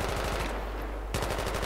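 Sustained automatic gunfire in a team shooter match on a bazaar map: rapid dense bursts of shots, loud and close, with a brief pause midway before firing resumes.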